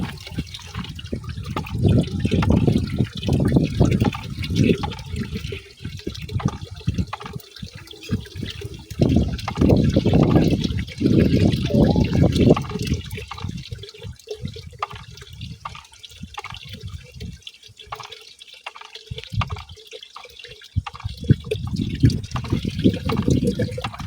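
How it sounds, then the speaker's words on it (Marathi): Phosphoric acid being poured into about 8 litres of water in a bucket while preparing a homemade 13:40:13 fertilizer solution, heard as a steady splashing, gurgling flow with brief pauses, close and fairly loud throughout. "फॉस्फरिक ॲसिड ॲड करायचं आहे."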